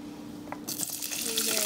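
Liquid being poured into a pot while making ginger carrot soup, a sudden splashing gush that starts partway in and continues steadily, near and fairly loud, after a quiet stretch with faint background hum.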